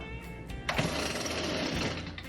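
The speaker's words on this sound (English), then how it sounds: "once the engine begins to fire, which sounds like this" A Stihl FS38 string trimmer's small two-stroke engine sputters and then catches, running with a steady buzzing roar close by after a brief start.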